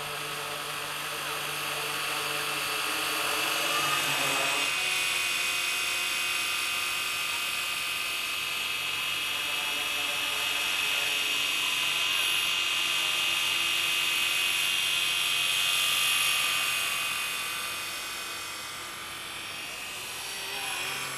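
A Ken Luo 230S scale RC SA315B helicopter in flight, its rotor and motor giving a steady high-pitched whine that swells and fades slightly as it moves, continuous for the whole stretch.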